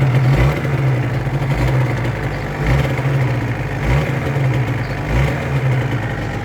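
A Yamaha TRZ 250 two-stroke motorcycle engine runs loud and close in a deep, throbbing idle, with a few slight swells in revs across the stretch and no talk over it.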